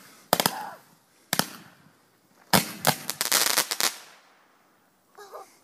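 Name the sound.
fireworks going off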